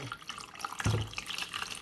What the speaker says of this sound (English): I'm going to pour in the rest